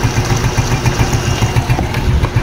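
A Suzuki Smash 115 motorcycle engine idles up close, putting out a loud, steady, low putter with a quick regular pulse and a faint mechanical ticking. No one speaks over it.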